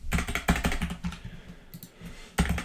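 Quick bursts of typing on a computer keyboard while filling in a form, keystrokes clustered in short runs with brief pauses between, close and clear with no talking.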